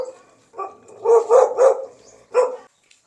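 A male Gultair puppy gives a short run of high, yelping barks close by, about five sharp yips in an uneven burst, with silence between them.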